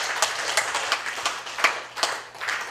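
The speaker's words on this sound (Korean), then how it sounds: "박수로 환영하겠습니다" A church congregation at an Easter Sunday service claps together in a dense, continuous round of applause with uneven peaks, fairly close and with no talk over it.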